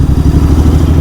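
Royal Enfield GT 650 motorcycle with a 650cc twin engine running close by, a loud, low, steady throbbing idle for about a second.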